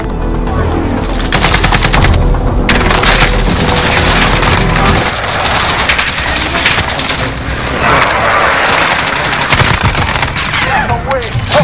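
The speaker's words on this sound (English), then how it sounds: "Enemy precision airstrike" Precision airstrike explosions pound the scene in a Call of Duty-style shooter, with dense rapid blasts and gunfire crackling loudly and continuously, booming impacts layered over the chaos.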